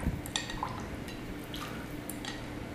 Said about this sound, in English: I'm going to give it a little bit more stock here.